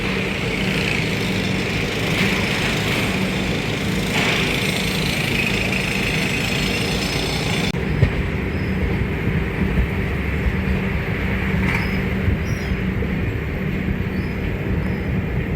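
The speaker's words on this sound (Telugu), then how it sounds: "అండ్ మన ట్రైన్ స్టార్ట్ అయిపోయిందండి" A train travelling from Vasco da Gama to Secunderabad pulls out of a junction station. Steady, loud rumble of wheels and engine runs throughout, close and continuous, with a few clanks along the way.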